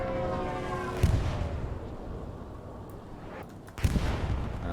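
In a video game scrim, an incoming strike lands as two heavy, booming impacts about three seconds apart over a constant low rumble of battlefield noise, with no voices.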